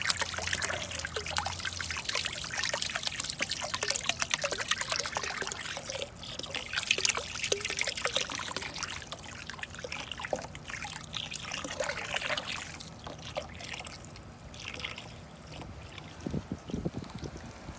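Tap water steadily pouring into a bucket being filled for compost tea, a continuous close splashing trickle that runs alone throughout, with slight changes in tone as the stream is moved around.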